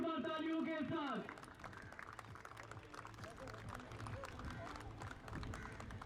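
A crowd applauds the GM11 team at a cricket match, steady scattered clapping mixed with crowd babble, after a loudspeaker voice fades out at the start.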